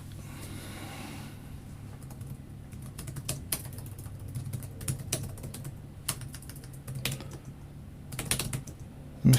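Fast, uneven clicking of keys on a computer keyboard, close and fairly quiet, in bursts with short pauses and a louder final tap; no talk.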